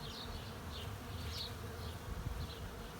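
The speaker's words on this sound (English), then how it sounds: "I keep thinking I hear a drone flying overhead, and I'm looking up, and it's actually just hundreds of bees" Hundreds of bees buzzing in a garden acacia tree, a soft continuous drone that sounds like a distant drone aircraft, faint and steady with no talking.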